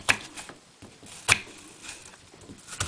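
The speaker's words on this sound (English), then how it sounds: "I cut radiating slices away" A knife cutting thin radiating slices on a board for a meatball recipe: a few sharp, separate chops spaced about a second apart, close and crisp over a quiet background with no talk.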